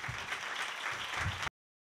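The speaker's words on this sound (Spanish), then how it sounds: "yo quiero que le ofrezcan un fuerte aplauso" A brief burst of steady audience applause on a television variety show as a pop singer is welcomed to the stage, even and continuous before cutting off abruptly.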